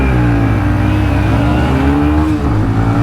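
A TVS Raider 125, a Hero Xtreme 125R and a Honda CB 125 Hornet, all 125cc motorcycles, accelerating hard in fourth gear during a performance race, a loud, close, continuous engine drone with rising pitch.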